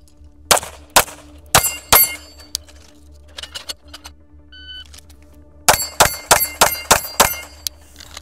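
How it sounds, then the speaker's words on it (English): An Atlas Apollo pistol fires at a steel plate rack, each shot followed by a sharp ringing clang. A few spaced shots come first, then a pause with faint movement, then a quick string of about six shots with metallic pings. "So we're gonna hit some plate racks and just see how consistent we can be with the first two mags."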